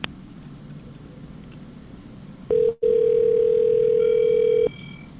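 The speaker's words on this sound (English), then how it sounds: "Wait while I transfer your call." A telephone line during a call transfer to a racetrack's security desk: a quiet hiss, then a loud, steady electronic tone that breaks briefly and runs for about two seconds before returning to low line noise.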